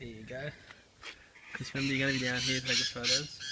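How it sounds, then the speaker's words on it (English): Outdoor birds squawk loudly and repeatedly with harsh, harmonic calls that mix with a person talking nearby. "Sorry about the birds."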